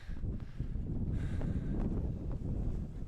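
Wind blowing across a frozen lake on Mt. Akagi in Japan where people ice fish, a steady low rumbling buffet of gusts against the microphone with no talking.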